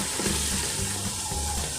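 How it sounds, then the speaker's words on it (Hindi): Dense, even sizzle of masala frying in a pan for kadhi pakora, holding steady and close throughout. "ये देखिए मसाला भून रहा है"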